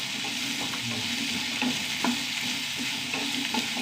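Frying and stirring in a pan while cooking a Kerala-style dish, with a steady close sizzle broken by spoon scrapes and stirring clicks, and no talk.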